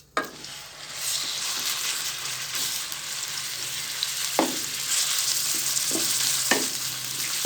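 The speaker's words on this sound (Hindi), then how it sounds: "अब ये इसके अंदर मेरे पास 1 पाव कीमा है बीफ का, ये डालेंगे।" Beef mince frying in hot ghee on high heat, a steady bright sizzle with occasional louder stirring scrapes and knocks of a spoon against the pan.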